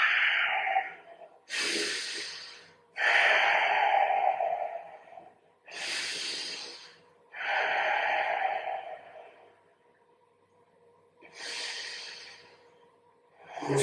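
Deep, slow breathing during a power yoga forward fold: long audible inhales and exhales alternate at a steady, unhurried pace, close and clear, with no talking.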